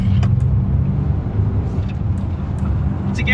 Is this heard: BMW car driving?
yes